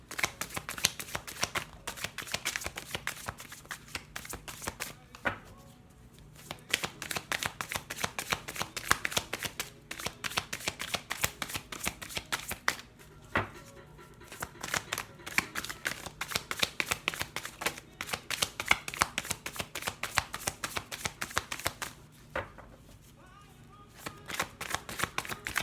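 Tarot cards being shuffled by hand in dense, continuous riffling bursts with brief pauses between rounds, close and fairly quiet, with no talk over it.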